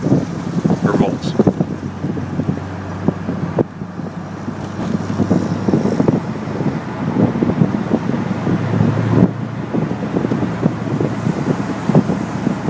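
A 1998 Chevy Corvette Pace Car cruising on the freeway at highway speed, steady wind rush and road roar with low engine drone, buffeting throughout at close range.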